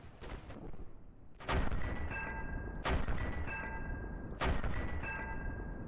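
Three sharp gunshots from a video game ring out about every one and a half seconds, each a loud crack followed by a metallic ringing tail, after a quieter stretch of low rumble.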